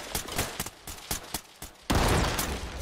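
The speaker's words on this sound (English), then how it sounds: "You're shooting at me!" Gunfire in the tactical shooter Ready or Not: several sharp separate shots in quick succession, then a louder sustained burst of fire at the end, close and loud with no talking.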